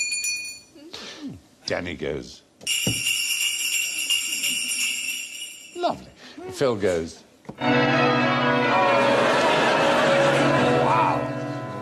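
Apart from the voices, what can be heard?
contestants jingling hand bells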